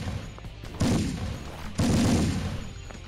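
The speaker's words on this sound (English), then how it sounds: "Just pop three bullets into him." Gunfire in the video game Joe's Wrath: two loud, close blasts about a second apart, each dropping into a dense rumbling decay, with no talk over them.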